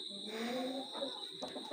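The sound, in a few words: aseel chicken chick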